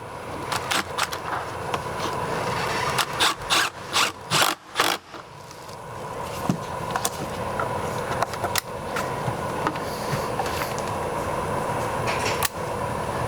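Close mechanical rattling from a Mini Cooper's Vanos, with a burst of sharp, rapid clicks early on, then a continuous ticking clatter over a low engine hum.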